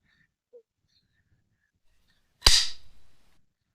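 A single sharp crossbow shot at 10 yards, loosing a 315 grain broadhead: a sudden loud snap and thwack followed by a short rattling tail, in near-silence after a faint earlier click.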